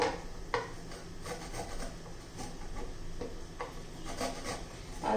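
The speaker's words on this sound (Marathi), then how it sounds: "पहिला आदा आणि लसूण किसून घेऊ" Fresh ginger and garlic are grated by hand for a jowar masala bhakri, a soft irregular scraping and rubbing close by, with light clicks and knocks against the grater.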